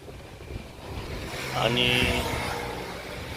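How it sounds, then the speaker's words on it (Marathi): Engine hum of a Honda Shine motorcycle on the move during a long day ride between Chalisgaon and Nashik under hot sun, steady and buried in wind buffeting, with someone talking over it. "आज बऱ्याच दिवसानंतर मोटरसायकलवर होंडावर शाईन होंडा आणि निघालो आहोत"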